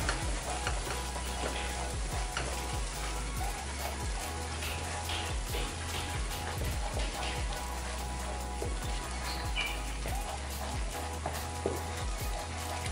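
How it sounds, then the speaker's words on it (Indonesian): Red spice paste (bumbu merah) sautéing in a pan, a steady dense sizzle and crackle running the whole time with occasional stirring scrapes, close and continuous, no talking. "Kita tumis juga sampai matang ya"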